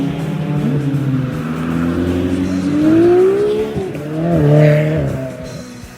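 Race cars at the Targa Florio 2025 on Sicilian roads, an engine roaring close by and rising in pitch as it accelerates, with a shift and a second surge, mixed with a brief tire squeal.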